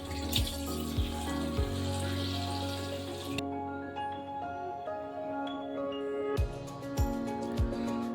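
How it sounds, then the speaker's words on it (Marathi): Crabs being washed by hand in gram flour water in a Konkan kitchen, with steady sloshing and trickling water and a few soft splashes and knocks against the vessel, close and moderately loud, no talking. "आता आपण बेसन मध्ये जरा हे थोडं धुवून घेतोय"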